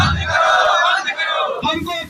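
A crowd of striking electricity department outsourced workers shouting slogans together in a loud, ragged burst of massed voices.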